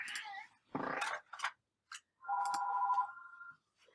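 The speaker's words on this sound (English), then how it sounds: "Ignore the phone call in the back." A phone rings in the background, giving a steady electronic tone after a few scattered noises and brief voice sounds, all quiet and somewhat distant.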